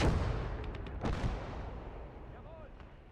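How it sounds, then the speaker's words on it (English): Grenades go off in the World War II shooter Gates of Hell: a heavy boom opens, then a second blast follows about a second later, and both rumbles fade slowly under muffled background noise. "I'm trying to throw a nade in every foxhole."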